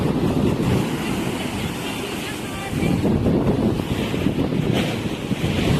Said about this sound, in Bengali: দেখো এখন স্রোতের পরিমাণ আরো ভালো, দেখো কি স্রোত দিচ্ছে দেখো।